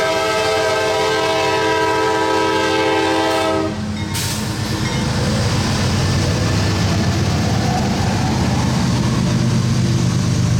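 Freight train K723 with hopper cars moving off southbound on a mainline, first a loud sustained horn blast, then a steady heavy rumble and rolling rail noise that carries on at close range.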